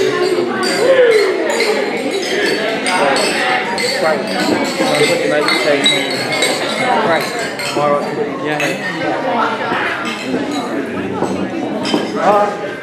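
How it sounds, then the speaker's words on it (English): Glasses clink in a toast at a 2018 certificate presentation, many bright, overlapping chinks of glass and cutlery scattered throughout amid loud, busy chatter from a crowded room. "I'd like you all to raise a glass to the 2018 OSA participants"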